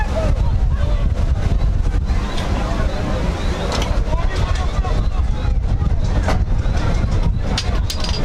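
Strong wind buffets the microphone at an outdoor football match at the DFA Technical Center, a continuous loud roaring rumble with gusty surges throughout, while a commentator's voice runs faintly beneath.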